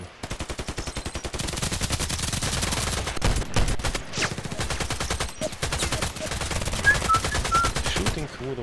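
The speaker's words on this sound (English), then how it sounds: "Shooting through the walls." Rapid automatic fire shooting through walls in Contract Wars, long sustained bursts of evenly spaced shots with a couple of brief breaks, loud and close.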